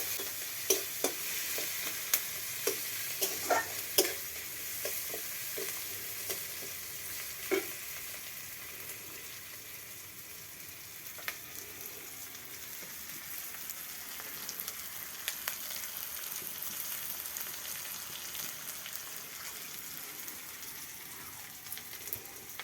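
Onions frying in oil in a pan with steady sizzling, and a few sharp clicks of a stirring spoon early on. The cooking noise carries on alone with no voices.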